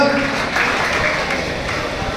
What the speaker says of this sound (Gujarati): જોરદાર તાળીઓને અભિવાદનથી મળાવો